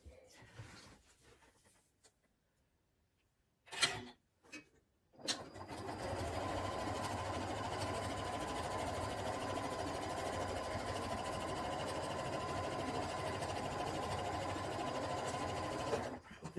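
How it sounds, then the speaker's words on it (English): A sewing machine stitches patchwork quilt blocks together, running in a steady, continuous whir for about ten seconds after a few brief clicks and bumps as the fabric is positioned. "back at the sewing machine now, and we're going to put those blocks together"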